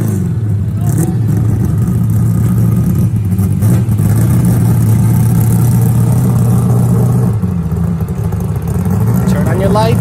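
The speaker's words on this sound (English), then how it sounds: "Listen to how this car sounds when he pops the clutch and drives it to the" A street car at a Street Car Takeover drag event in Bradenton revs loudly as the clutch is popped, a steady low engine drone running continuously and close throughout, with crowd noise and talk mixed beneath.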